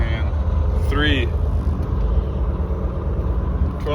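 Farm truck engine running steadily after being shifted into drive in a 12-speed, a continuous low rumble with a brief whirring tone and faint talk underneath.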